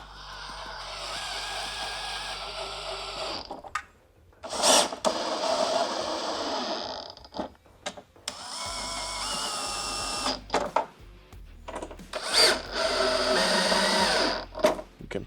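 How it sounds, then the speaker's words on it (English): Bolts on a HOGWORKZ 7-inch LED black HALOMAKER headlight mount for an Indian motorcycle being snugged down with a tool, several bursts of close mechanical ratcheting and whirring separated by short pauses. "Go ahead and tighten those down nice and snug."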